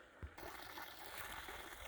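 Spring water runs from a pipe coming out of a hillside at an old roadside park, making a faint, steady trickling rush throughout.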